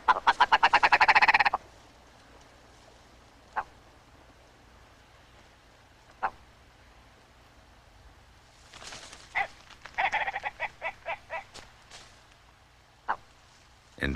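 Male ptarmigan in the Brooks Range of Alaska calls out over its territory: a loud burst of rapid croaking notes, then scattered single clicks and a later run of stuttering, rattling calls, heard alone outdoors.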